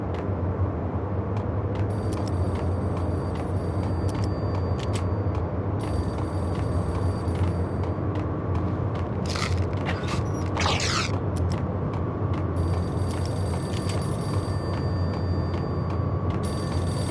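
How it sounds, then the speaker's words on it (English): A payphone in the Max Payne video game rings in repeated electronic trills, several bursts separated by short pauses, over a steady low mechanical hum and creaking. "payphone started to ring."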